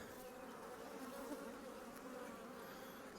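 Honeybees swarm around an open hive during a Father's Day inspection, a dense, continuous buzzing hum held at a steady, close level with no voices.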